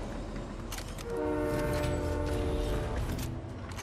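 A train in the video game Fortnite sounds its horn in a sustained, fairly loud tonal blast over rumbling game noise, with no one talking.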